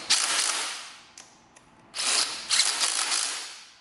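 A ratchet tightens fork bolts on a Kawasaki KLX140 dirt bike, heard up close as two bursts of rapid mechanical clicking separated by a brief quiet pause.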